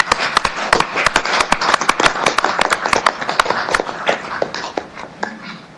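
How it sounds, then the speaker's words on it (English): Applause at a City Council meeting honoring Councillor O'Donnell's retirement, a room of people clapping briskly and unevenly for several seconds, sharp close claps thinning out toward the end. "give Councillor O'Donnell a round of applause and appreciation for his years of service"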